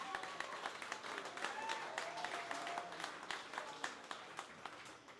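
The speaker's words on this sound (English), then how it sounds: "So give you all yourselves a round of applause." A ceremony audience applauding itself in Virginia Beach, a steady broad clapping from many people with occasional sharper near claps and faint voices mixed in, fairly soft overall.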